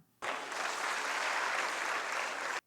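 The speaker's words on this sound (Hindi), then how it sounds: "तालियां" Audience applause at a breast cancer survivors' fashion show: dense, steady clapping from a crowd that starts abruptly, holds at even strength for about two seconds, then cuts off, with no voices over it.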